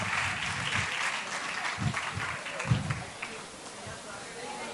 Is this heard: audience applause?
yes